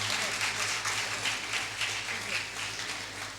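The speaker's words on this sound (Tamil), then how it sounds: "நமது சார்பாக கரகோஷங்கள் மூலமாக அவங்களை கௌரவிப்போம்" An audience clapping to honour dancers at a Bharatanatyam event held for a 150th anniversary in Pennington, steady continuous applause from a sizeable crowd that tapers off slightly at the end.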